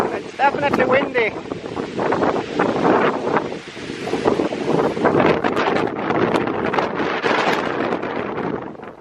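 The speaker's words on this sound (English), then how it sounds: "It's definitely windy." Strong wind buffets the microphone with a constant roaring rush, while voices talk intermittently underneath.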